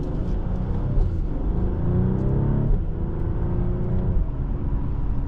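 A 2023 Mercedes-Benz E 450 4MATIC Coupe pulls away smoothly on an evening drive, its engine note rising in a steady, close interior drone with a dense low rumble and no talking.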